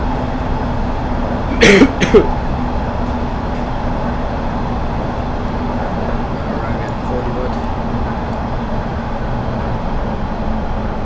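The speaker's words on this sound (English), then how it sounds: "do have a terrible cough, so I do apologize for my coughing" One short double cough breaks through a steady background hum and rumble, otherwise no distinct sounds.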